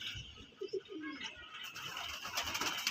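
Pigeons in a Bengali fancier's loft, show birds of a mainline breed, coo in low repeated bursts close by, with soft rustling and a little background murmur.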